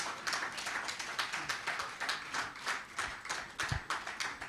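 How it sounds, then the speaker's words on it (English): Audience at a publishers' guild gathering clapping in loose, uneven rhythm, scattered individual claps rather than a roar, moderately near and fairly quiet, with a low thump near the end. "I think you guys should get up and clap for yourselves"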